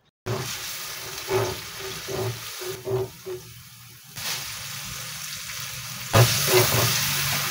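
Curry spice paste of beef curry spices and ground chili sizzles and fries in a pan while being stirred, a continuous crackling hiss with periodic scraping pulses from the utensil, close and steady, no talk.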